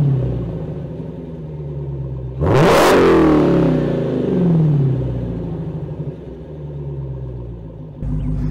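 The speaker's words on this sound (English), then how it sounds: "I'll go ahead and play what this beautiful exhaust note sounds like." A 2023 Dodge Challenger SRT "Black Ghost" barks loudly to life with a sharp rev, then settles into a deep, rumbling idle with a throaty, uneven exhaust burble.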